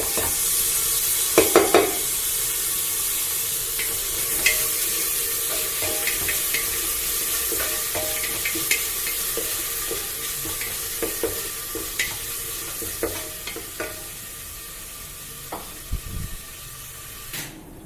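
Finely chopped tomatoes fry in a pan for a Kerala coconut milk pulao, a steady low sizzle punctuated by scattered spoon taps and stirring scrapes, moderately quiet with no talking.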